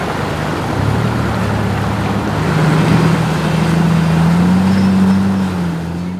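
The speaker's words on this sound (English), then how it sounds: "another narrow little creek crossing with the purest water you'd ever want to see flowing through" An off-road vehicle crosses a narrow creek of clear flowing water on the Cape York track in Australia, its engine droning steadily close by with a low rising hum over constant water and wash noise, no voices.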